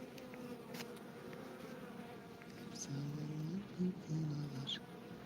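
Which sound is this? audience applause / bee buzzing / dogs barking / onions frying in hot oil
bee buzzing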